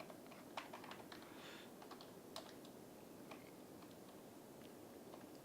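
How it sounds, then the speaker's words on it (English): Typing on a computer keyboard while naming a town in Cities: Skylines, quick irregular clicks in short bursts, fairly faint and close, over a steady background hiss with no talk. "Why can't I type there?"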